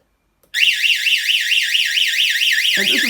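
A loud shed security alarm wails with a fast, steady warbling tone, starting abruptly after a moment of silence and continuing without pause.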